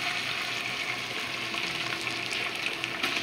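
Garlic and onion sauté in a pan in a Riyadh kitchen, a continuous bright sizzle close up with small crackles and pops throughout.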